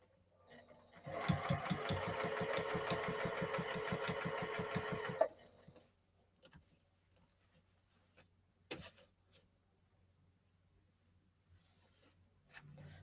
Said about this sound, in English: I sew right up to my needle before I remove it.